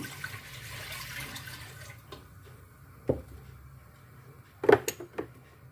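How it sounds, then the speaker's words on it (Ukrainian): A litre of water pours and splashes into a pot on a gas stove for a couple of seconds, followed by a few metallic clunks and drips. "Виливаємо туди літр води."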